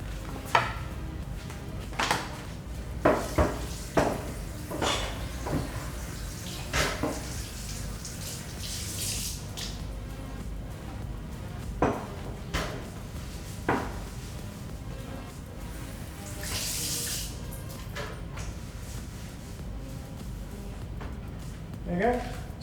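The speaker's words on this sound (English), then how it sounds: "I'll rinse this chopping board too." A chopping board is rinsed under a running kitchen tap at the sink, water flowing steadily with intermittent knocks and clatters of the board and dishes, while a person talks now and then.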